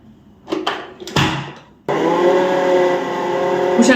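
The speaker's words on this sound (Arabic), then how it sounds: "وشغلنا العجان بتاعنا كده بالراحه" A stand mixer starts up partway through and runs at a steady, loud whir, beating cake batter of small farm eggs, vanilla, milk and sugar. A few short knocks and clatters come just before it switches on.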